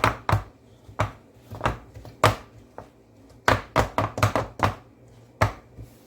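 Rattling taps and knocks from a baking pan of eggless banana bread batter being shaken to release air bubbles, about a dozen sharp, close hits in uneven bursts, alone with no talk.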